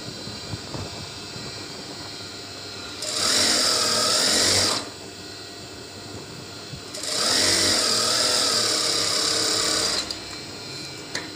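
A sewing machine stitches a trouser in two loud, steady bursts of rapid whirring, each lasting under two seconds to about three, separated by a quieter pause.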